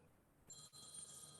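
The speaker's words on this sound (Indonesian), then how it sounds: "Telepon kok bisa bunyi ya?" A telephone rings during a church sermon, a sudden high, steady electronic ring that starts midway and continues to the end, faint and alone without talk.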